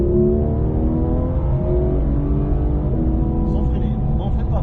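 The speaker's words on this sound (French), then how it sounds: "N'oublie pas que c'est une voiture de course." A race car on a track drones loudly and close, its pitch climbing gradually as it accelerates, with a faint voice near the end.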